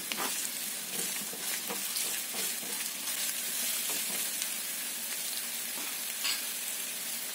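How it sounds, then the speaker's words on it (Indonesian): Onion and garlic sautéing in a pan for a sauce, a steady close sizzle with repeated stirring scrapes throughout and no talking. "Untuk sausnya, tumis bawang bombay, bawang putih,"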